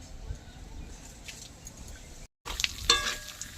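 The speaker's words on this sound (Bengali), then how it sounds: "ফোড়নের পরে এবার দেবো গোটা জিরে" Whole cumin seeds go into hot mustard oil already tempered with a dried chili, cinnamon and bay leaf, giving a faint, low sizzle. It breaks off briefly, then returns with a few brighter crackles and pops.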